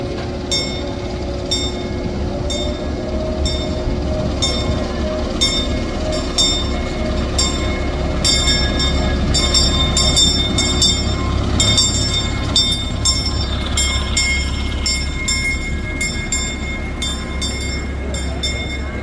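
Knott's Berry Farm's Galloping Goose train rolls along with a steady low rumble and a regular clickety-clack of wheels over rail joints, heard from on board for the whole stretch without talk.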